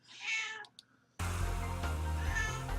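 A cat meows in a short rising cry, followed by a brief second sound, before a steady bed of low background noise and music cuts in.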